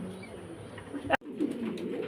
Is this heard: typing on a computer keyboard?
no